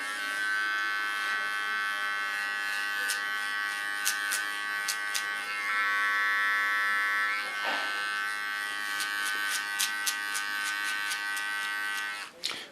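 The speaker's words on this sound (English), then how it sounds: "With a small clipper I clean the contour line." A small hair clipper buzzes steadily and close up while trimming the contour line of a short haircut, a continuous electric hum with brief clicking ticks as the blades work along the edge.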